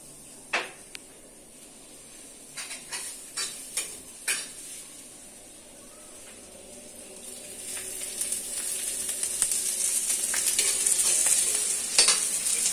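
Onion and chili frying in mustard oil for spiced mashed banana at an outdoor village cooking spot, with clattering pot and utensil knocks early on and a sizzle that grows steadily louder and denser toward the end.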